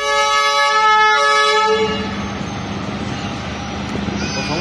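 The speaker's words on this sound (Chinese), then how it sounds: "火车已经缓缓驶来了" A Chinese-built meter-gauge train on the Yunnan-Vietnam railway slows through a border-town market. It sounds a loud, sustained horn blast for about two seconds, then its rolling rumble continues nearby.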